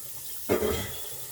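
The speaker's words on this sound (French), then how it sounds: "On remet l'eau très chaude." Water runs from a tap into a sink during a skincare routine, starting abruptly partway through as a steady close gush that continues to the end.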